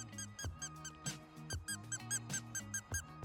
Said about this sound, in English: You love squeaky toys?